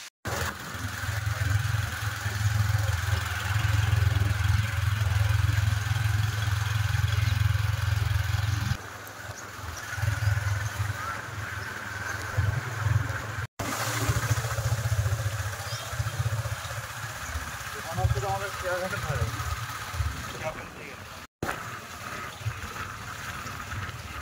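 A motorbike engine runs steadily while the bike is wheeled out of a house in rural Sundarban, a low droning rumble that is loud at first, then drops back and continues more unevenly to the end.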